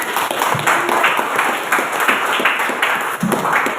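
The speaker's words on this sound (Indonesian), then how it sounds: "tepuk tangan untuk dia" Classroom of students clapping for a classmate who answered well, a steady mid-level patter of hands lasting throughout with a brief dip near the end.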